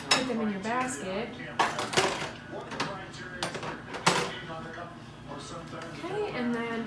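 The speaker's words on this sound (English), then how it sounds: "turn this way with your body to grab your silverware, put them in your basket" Silverware is taken from a kitchen drawer and dropped into a basket during meal prep and dish practice, with several clinks and clatters of cutlery on dishes under steady talking.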